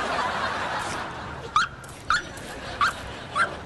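A dog gives four short, high yips and whimpers at even intervals over a low indoor background in a sitcom scene.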